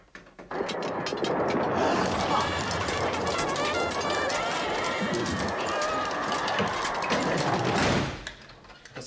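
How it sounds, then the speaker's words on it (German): Knights rage and brawl behind a door: a dense, loud commotion of running, clattering and shouting that bursts in after half a second, churns steadily for about seven seconds, then cuts off abruptly. "Dahinter toben die Ritter."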